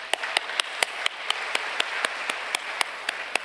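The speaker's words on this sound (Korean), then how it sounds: "박수 한번 주시죠." Clapping at a church retreat lecture, a steady, evenly spaced beat of claps at a moderate tempo. It sounds like one nearby person clapping in rhythm more than a broad burst of crowd applause.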